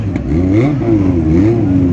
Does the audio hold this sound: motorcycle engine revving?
yes